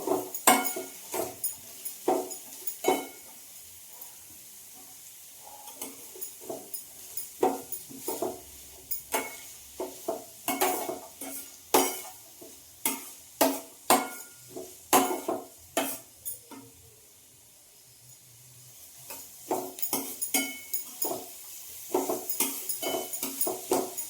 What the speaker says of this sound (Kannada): ಸ್ವಲ್ಪ ಹೈ ಫ್ಲೇಮ್ನಲ್ಲಿ ಇಟ್ಬಿಟ್ಟು ಫ್ರೈ ಮಾಡ್ತಾ ಇದ್ದೀನಿ